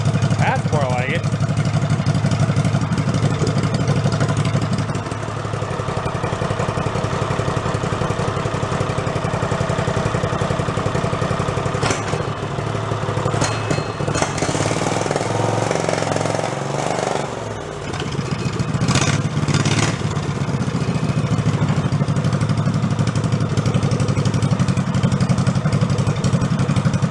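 A big engine on an amusement park go-kart runs with no muffler, a loud, raw, steady rumble with uneven clatter that holds for the whole stretch, dipping briefly partway through while a voice talks over it.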